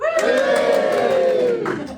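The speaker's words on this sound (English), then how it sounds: "this is a bit where you all cheer" A live expo audience at a driving instructor presentation cheers and shouts loudly together in one sustained, close burst of crowd noise lasting about two seconds.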